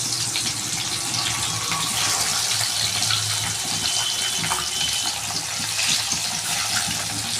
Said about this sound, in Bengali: এরপর আমি হলুদ নুন মাখার মাছগুলো একটু দিয়ে দিচ্ছি,